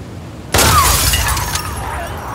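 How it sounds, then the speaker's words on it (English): Glass shattering in the video game The Last of Us Part II: a sudden loud crash of breaking glass followed by a sustained tinkling spray of falling shards. "he's gonna hear the glass break."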